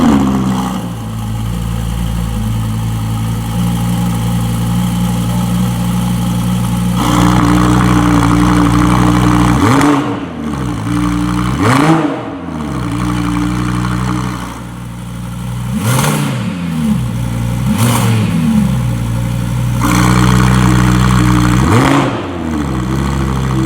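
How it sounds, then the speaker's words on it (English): Audi R8 V10 fitted with a Capristo exhaust idles with a deep, steady burble, then barks through a series of sharp, loud revs that rise and fall, each blip dropping back to idle, close up. "As a huge R8 lover, the exhaust system from Capristo truly makes this an exotic car sound."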